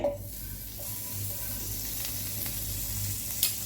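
Half a tablespoon of butter melting in a hot pan for bread toast, giving a soft steady sizzle with a faint background hum and a brief clink near the end.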